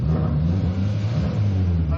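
A Hyundai Avante AD 1.6 GDi with a switchable sport exhaust gives a close, steady, low throaty engine drone with a deep rumbling tone that holds for about two seconds.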